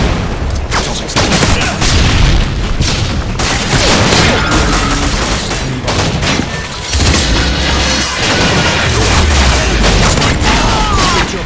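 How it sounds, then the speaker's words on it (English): Dense, loud game combat on a quarry map: a stun grenade goes off among continuous gunfire and booming blasts, with no break in the din. "Tossing stun grenade."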